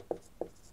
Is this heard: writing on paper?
yes